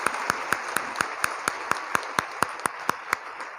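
An audience seated in a lecture hall claps together in a slow, regular rhythm, about four crisp claps per second in unison, steady and moderately loud throughout.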